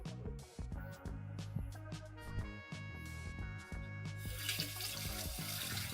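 Tap water runs steadily from a faucet into a pot to add water to beef stew in a home kitchen, a continuous splashing flow heard close, with small clinks and knocks of cookware.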